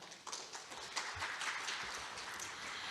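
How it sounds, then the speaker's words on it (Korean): Audience at a government innovation forum on public-sector AI applauding the presenters and panelists, a soft, continuous wash of distant clapping without speech. "발표와 토론을 함께 해주신 발표자분들과 토론자분들께 모두 큰 박수 부탁드립니다."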